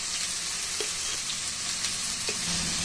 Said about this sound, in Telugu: అది వేగాక సన్నగా కట్ చేసి పెట్టుకున్న బీరకాయ ముక్కలు వేస్తున్నారు. వేసాక ఒకసారి బాగా కలిపి పెట్టుకోవాలి.